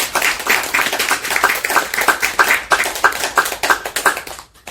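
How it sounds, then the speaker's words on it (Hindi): Audience at a spiritual discourse on Bhagwan Mahavir's teachings clapping together, a dense, steady run of rhythmic hand claps lasting several seconds before stopping abruptly. "एक बार ताली बजा लें, एक बार एक्टिव हो जाए"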